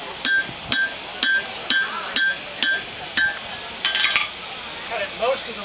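Hot iron being cut off with hammer blows at a forge during an iron-working demo at a crafts fair, a series of about eight sharp, ringing metallic strikes in an even rhythm, close and loud.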